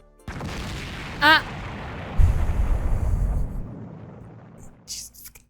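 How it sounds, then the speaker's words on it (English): A mass explosion in the video game The Hundred Line: Last Defense Academy, a deep, rumbling blast with a sharp tonal chirp before it and a sustained booming roar that slowly fades. "I blacked out just as a mass explosion rang out"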